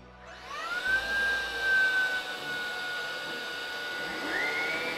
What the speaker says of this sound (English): get the Hoover out. So this is normal mode.